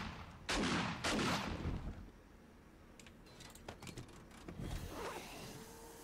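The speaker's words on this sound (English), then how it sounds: "Shots fired." Gunfire in the survival video game 7 Days to Die: a pair of loud close shots at the start, then fainter scattered pops and clatter, with no voices.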